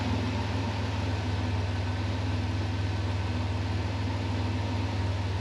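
Vehicle engine idling steadily, a low continuous hum with an even pulsing drone, close and constant with no voices.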